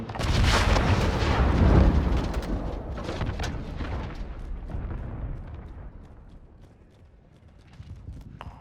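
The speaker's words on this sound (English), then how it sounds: "Enemy cruise missile, take cover." A cruise missile strike in Call of Duty Modern Warfare hits as a heavy, rumbling explosion that swells loud early, then rolls off in a long decaying roar with scattered crackles and a faint later thump.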